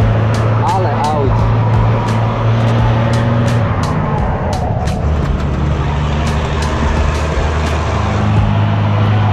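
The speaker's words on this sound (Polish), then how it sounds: "Ale aut." Dense road traffic near a border road by a tropical forest, a constant loud roar of car and truck engines passing close, with someone talking over it.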